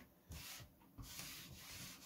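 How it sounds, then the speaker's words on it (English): Rhythmic strokes of fine sandpaper rubbing across brown paint on a model biplane wing, a soft scratchy hiss repeating about every half second, close up. "a sanding with a light fine sandpaper"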